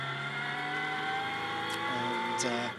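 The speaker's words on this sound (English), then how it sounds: "So, as the cars weave around down the back straight" Ginetta GT race cars run down the back straight at Donington during a 2024 Protyre Motorsport Ginetta GT Championship race. Their engines rise steadily in pitch as they accelerate, a loud, continuous near drone with no talk over it.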